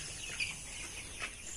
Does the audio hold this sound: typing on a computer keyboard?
no